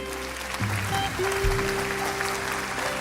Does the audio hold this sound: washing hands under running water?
no